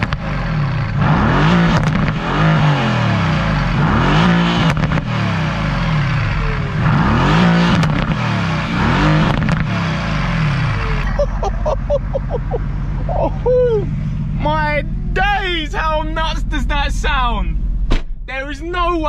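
A Mercedes-AMG sports car engine with exhaust valves open revs repeatedly nearby with deep rising and falling exhaust roars, then idles with a low burble while people talk over it.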